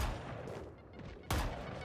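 Gunfire in a Valorant esports match comes as a burst of loud sharp shots, with quieter crackling shots and game noise before it.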